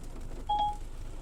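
A single short electronic dialing tone from a Ford Mondeo/Taurus SYNC system placing a voice call, one clean beep in the middle of an otherwise quiet cabin background.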